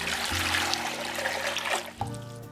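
Hot tap water running and pouring into a container for whole wheat bread dough, a steady close splashing trickle with a brief break about two seconds in, over a low household hum.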